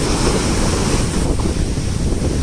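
Sea waves break continuously on a shore, a loud steady wash of surf and spray with wind buffeting the microphone and no voices.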